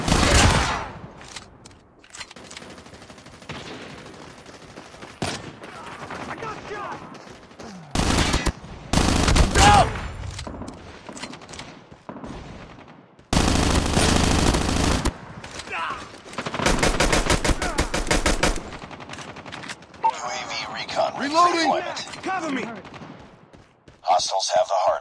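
Bursts of automatic gunfire and single shots in a first-person shooter video game, loud rapid volleys coming in clusters with quieter gaps, over game voice callouts and background effects.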